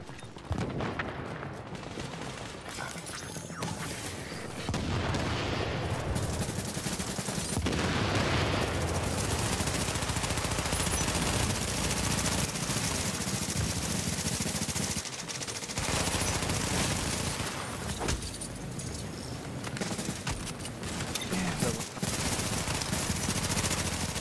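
Sustained automatic gunfire fills a video game shootout, dense overlapping bursts rattling almost nonstop, loud and close, with only a few brief lulls.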